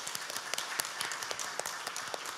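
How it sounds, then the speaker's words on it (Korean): A church congregation claps together in brief, light applause, heard faint and somewhat distant. "우리 박수로 환영하겠습니다."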